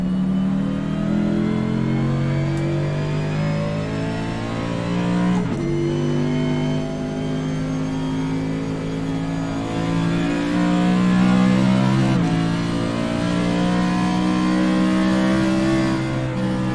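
A race car engine in a racing game drones loud and steady, holding at an even pitch with brief dips as gears shift, then climbs again, with a continuous close, buzzing tone throughout.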